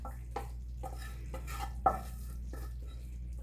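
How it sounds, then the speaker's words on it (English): Jasmine rice being stirred in a pan for a tofu cashew butter masala, with a steady series of scraping, rustling strokes repeating every half second or so at close range, over a low steady hum and with no talking. "So we'll throw our beautiful, delicious jasmine rice up in here."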